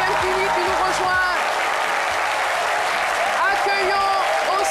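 Studio audience of a French-language midday TV show applauds a guest's arrival, continuous clapping backed by jingle-like music and a presenter's voice over the top.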